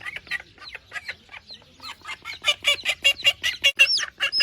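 A mother duck and her chicks on a farm call together, with rapid repeated high peeps and clucking notes in a quickening, busy rhythm, close and clear with no talking.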